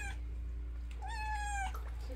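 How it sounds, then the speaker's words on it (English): A cat meows while being bathed outdoors in light rain, giving one clear, drawn-out rising-and-falling meow over a steady low hum, with fainter cries before it. "Cat bath time."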